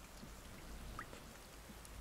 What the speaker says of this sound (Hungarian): csepereg az eső